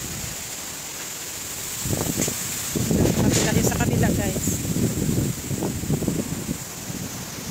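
Strong gusting wind in the aftermath of tropical storm Kristine roars against the microphone in surging bursts, loud and close, while someone speaks briefly over it.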